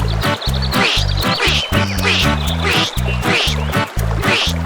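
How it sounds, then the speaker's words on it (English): A duck quacks in a rapid, hoarse series of loud, close calls, each quack short and evenly spaced with no pause in the run. "Suddenly, a hoarse quack comes from below Mama Duck."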